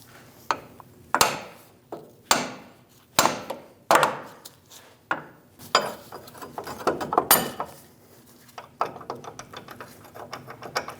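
Repeated sharp metal strikes of a hammer on a pickle fork wedged into the steering joint of a 2001-2006 Chevrolet Silverado 2500 HD, a dozen or so close, loud blows in an uneven rhythm with short ringing decays.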